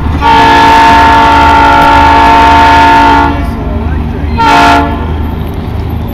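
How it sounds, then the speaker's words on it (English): A GE locomotive sounds a loud, sustained horn blast as the train passes close by, then the horn cuts off and the heavy rumble of the rail cars rolls on, with a second short horn burst near the end. "It's a GE engine,"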